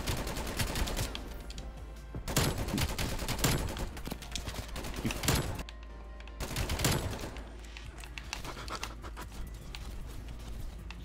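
Rapid bursts of automatic weapon fire in the video game Black Ops Cold War, loud and continuous with short pauses between volleys, dense and close throughout.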